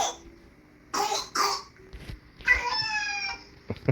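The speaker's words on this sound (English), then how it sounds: "She's got a nasty cough since RSV." A person with a nasty cough left by RSV coughs and clears her throat in a few sharp, fairly loud bursts, followed by a longer raspy, strained sound and a final short cough, with no talking.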